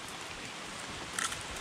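Heavy rain pours steadily outdoors on a river spring expedition, a soft, constant wash of noise with a brief louder spatter partway through, no voices.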